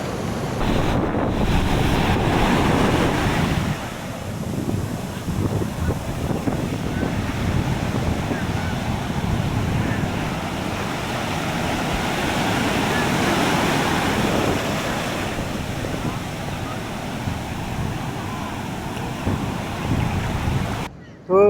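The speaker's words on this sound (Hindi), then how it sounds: "फिर आप सुनना कि समुद्र की आवाज़ कैसे आती है।" Sea waves breaking on the shore beside the Somnath temple in Gujarat, a steady loud rumbling surge heavily buffeted by wind on the microphone, continuous for the whole stretch with no voices.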